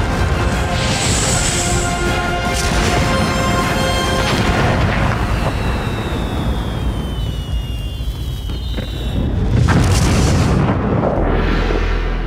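Booming explosions roll out in a loud, rumbling sequence with sharp bursts and a heavy low-end swell near the end, layered and dramatic with no talking.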